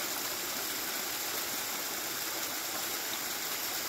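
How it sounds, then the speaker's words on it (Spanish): Steady flowing stream water in the hills of Sierras de Carapé, a continuous broadband rush and gurgle heard close and alone, with no voices. "Ahora solo disfruten del sonido del agua."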